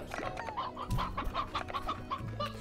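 Chickens cluck repeatedly inside Slime Rancher, a rapid run of short clucks over game background sound, with no talking.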